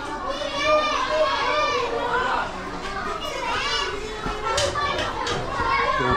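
A group of children play and shout nearby, with overlapping high-pitched cries and excited chatter rising and falling continuously.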